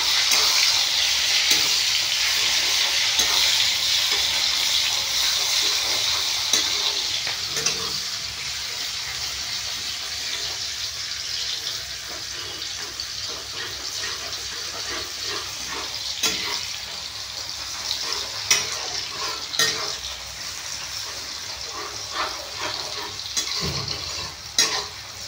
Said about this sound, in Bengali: তো আমি পেঁয়াজটা হালকা লাল করে ভেজে নিয়েছি